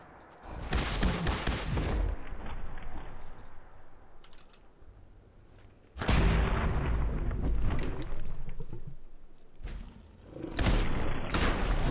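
Gunfire in Fallout 4 against a big robot, with loud bursts of shots near the start, at six seconds and again near the end, and quieter game ambience between them.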